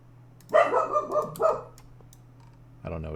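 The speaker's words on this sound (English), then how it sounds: "I don't know what he's barking at." Dog barking in a quick burst of several yelping barks close by, followed by a short lull and then another bark over a steady low hum.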